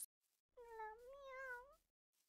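A single synthetic cat-like meow, about a second long and rising then falling in pitch, stands alone against near silence: the Glameow Pokémon cry in the Minecraft game Pixelmon.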